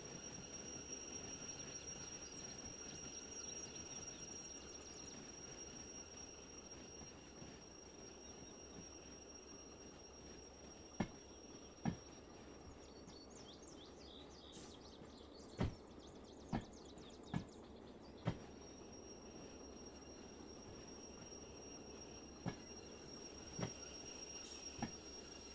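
Train wheels roll along the track in the Derail Valley train simulator, a steady low rumble of a DB Regio train with several sharp metallic clacks and squeals scattered through the second half.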